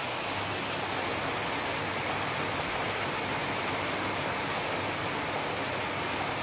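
Rain falls steadily outdoors, a dense, even hiss of drops that holds at the same level throughout with no other sounds standing out.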